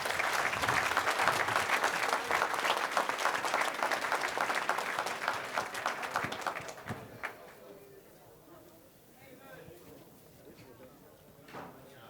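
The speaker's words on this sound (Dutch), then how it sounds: "Nog één keer een applaus voor Probo uit Dokkum." Audience applause fills a hall at a regional sports and business awards evening, loud and dense at first, then fading out after about seven seconds into quiet room noise with a little murmuring.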